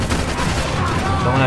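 Gunfire in the shooter game Max Payne 3, a loud close shotgun blast whose echoes ring on under a busy mix of game noise.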